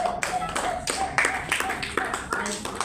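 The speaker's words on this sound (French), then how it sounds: "Applaudissons pour le Seigneur." A church congregation claps hands in praise at a revival service in Mbouo, with steady rhythmic claps under a murmur of voices.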